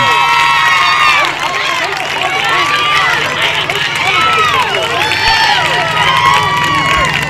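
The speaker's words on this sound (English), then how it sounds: "Listen to the crowd go wild over there." Outdoor crowd at a 2011 softball game cheering and shouting loudly and continuously, with children's high voices rising above the noise and a steady hum underneath.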